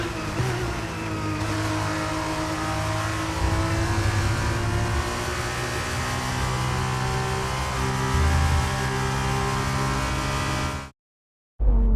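A Formula 1 race car engine in the F1 23 video game revs continuously with a loud, high whine and shifting pitch for about eleven seconds, then cuts out abruptly to silence before briefly returning.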